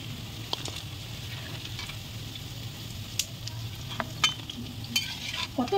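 Chicken pakoras frying in hot oil give a soft, continuous sizzle, with scattered clinks and scrapes as pieces are lifted out one by one, close but fairly quiet.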